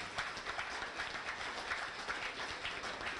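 Steady applause from a crowd at a high school winter sports banquet, a continuous wash of clapping that is moderately distant and even throughout.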